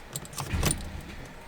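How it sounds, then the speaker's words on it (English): Key in the ignition of a Porsche 997 being turned on, a short close metallic jangle of keys against the switch, brief and alone in a quiet car interior. "So I've got the ignition switched on."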